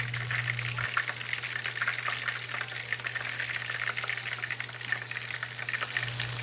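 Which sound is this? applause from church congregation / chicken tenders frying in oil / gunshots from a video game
chicken tenders frying in oil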